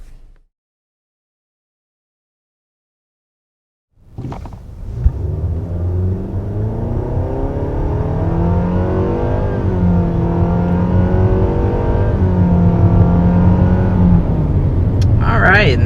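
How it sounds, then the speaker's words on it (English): A 2022 Nissan Sentra SR accelerates up to 60 mph, its engine note rising and falling through the gears as a steady drone under road rumble. It starts suddenly after a silent opening and runs close and continuous. "there is up to 60 miles per hour in the 2022 Nissan Sentra"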